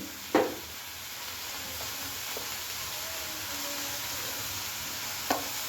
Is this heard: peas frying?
yes